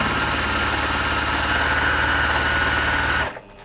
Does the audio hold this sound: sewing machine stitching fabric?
yes